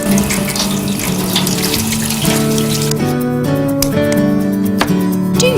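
Kitchen tap water running steadily into a sink while potatoes are washed, a close continuous splashing rush with shifting gurgles and pitch changes.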